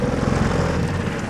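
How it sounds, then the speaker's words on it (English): A boat's engine revs hard out of gear on a pike-fishing trip, a loud, dense, steady roar that fills the whole moment with no talk. "Dan's revving the engine to bits and it's not even in gear yet."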